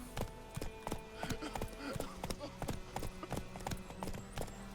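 Horse hooves clip-clop steadily at a walking pace in The Witcher 3 video game, a regular series of sharp, close knocks with game ambience and background sounds underneath.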